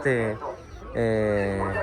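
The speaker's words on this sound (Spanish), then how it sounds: "Hay pollos de lujo también." Fancy show chickens and fighting roosters at a stall on market day in Tlaxiaco, in Oaxaca's Mixteca region. Two loud, close, harmonic clucking calls sound over the busy background.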